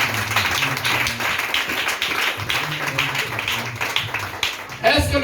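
A church congregation claps during a worship service, a dense, steady patter of many hands that runs throughout beneath voices and ends in a louder burst.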